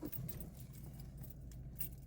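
Car keys jangle faintly inside a Toyota Fortuner, with light metallic rattles over a low, steady background rumble.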